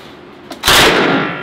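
A loud blast of fully automatic fire from an Uzi 9mm submachine gun on a shooting range, a short dense burst after a faint preceding click, close and powerful, no talking.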